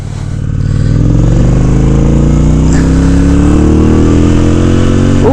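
A Honda Shadow ACE motorcycle rides off under acceleration, its V-twin engine building loud and close with rising tones that climb through gear changes, the exhaust note dominating.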